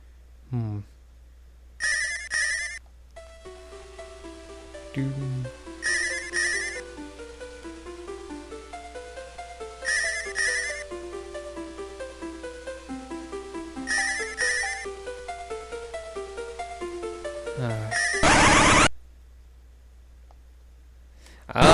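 Chiming electronic game music from Final Fantasy IV's random encounter, with repeated bell-like bursts over a low steady hum, ending in a loud harsh buzzing blast.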